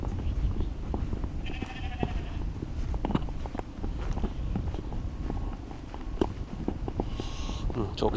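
Sheep bleating a few times at a distance in open countryside, short wavering calls heard over wind, footsteps and someone talking.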